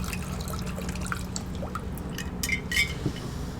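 Cocktail from a shaker pouring into a tiki glass with trickling, dripping liquid and a few bright clinks of ice or glass near the end, close and moderately loud, with no talking.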